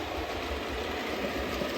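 A model railway locomotive, Winston Churchill, rolls into a station platform on a layout, giving a steady, close whirring and rumbling from motor and wheels with no voices.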